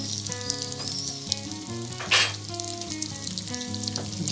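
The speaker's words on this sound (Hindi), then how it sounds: "जितने आप दरमियाने फ्लेम से पकाएंगे ये उतने ही खस्ता बनेंगे।" Chicken samosas frying in oil over a medium flame, a steady close sizzle and bubbling throughout with a brief louder crackling burst midway; no talking.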